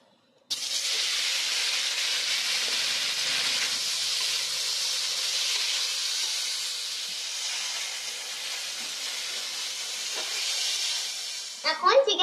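Chicken is added to hot oil in a wok for a homemade chicken pizza. A sudden loud hiss starts and settles into a steady sizzle, with a few faint clinks at the end.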